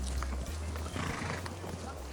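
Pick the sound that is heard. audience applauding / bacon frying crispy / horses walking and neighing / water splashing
horses walking and neighing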